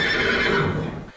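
A horse neighs in a loud, drawn-out whinny, descending and fading near the end, inserted as a sound effect in a French reading of a children's story about three robbers stopping carriages.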